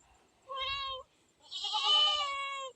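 A kitten in a bucket gives two clear meows, a short cry followed by a longer, louder one, close and alone with a quiet background.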